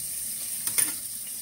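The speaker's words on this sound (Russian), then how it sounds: "Сразу же в эту перцовую пасту на растительном масле я отправляю лук." Onion goes into a pot of pepper paste and vegetable oil, a soft steady hiss of frying with a brief sharper sizzle and stirring as it hits the hot oil.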